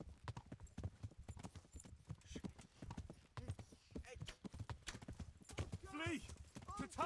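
Horse hooves clip-clop at a gallop in the medieval game Kingdom Come: Deliverance, a steady rhythmic pounding close up, with a horse whinny near the end, under continuous talk from a player and game voices.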